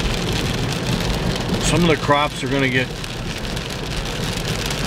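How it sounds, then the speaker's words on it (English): Steady rain pours down over a flooded August farm area near tall corn, forming a dense, loud hiss throughout, with someone talking briefly over it in the middle. "This rain."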